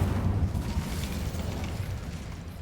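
An Incendio fire spell blasts in Hogwarts Legacy gameplay, a dense, rumbling burst of low roaring fire that stays steady and moderately loud.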